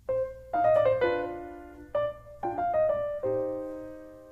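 Piano plays the theme of a Haydn allegro finale in short question-and-answer bursts: quick clusters of notes, each settling into a ringing chord, with brief pauses between phrases, close and clear.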